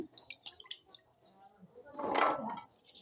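Gati kochu taro pieces are rinsed of sand in a bowl of water, a few faint drips and small splashes followed by a brief swishing slosh, quiet and close.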